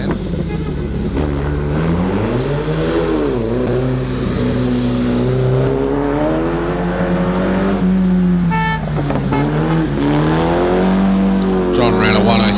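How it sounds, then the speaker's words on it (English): A home-built 1972 Chimera sports car races up a lakeside hillclimb, its engine revving loud and close with rising and falling pitch through gear changes, while a commentator talks over it throughout. "Parker in the Chimera Sports 1972 car John built himself all the way back then"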